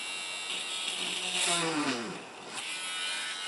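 A small electric mini drill whines, its pitch sliding down as it bites into a model railway layout's baseboard, then eases off; a brief, fairly quiet burst.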